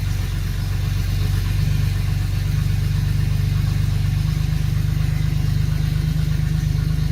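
A silver Ford Ranger pickup runs in drive on a chassis dyno drum, its engine giving a steady, loud low hum with a fine vibrating texture that holds constant throughout, no voices.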